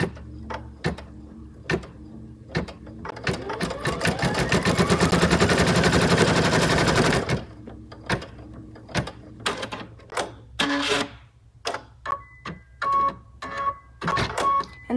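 An embroidery machine stitches layered fabric pieces for an embroider-by-number design, running as a steady, close mechanical rattle for several seconds amid intermittent clicks and taps from the machine.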